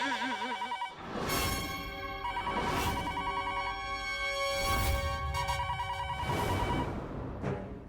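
A telephone rings in a domestic sitcom scene, a repeating electronic tone pattern sounding in steady bursts, loud and close, with no voices over it.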